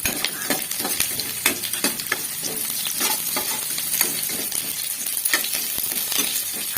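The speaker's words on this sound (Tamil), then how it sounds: "கருவேப்பிலை போட்டு நல்லா வதக்கலாம்." Onions, green chillies and curry leaves sauté in a pan, a bright steady sizzle broken by repeated sharp clinks and scrapes of a spoon stirring against the metal, close and without talk.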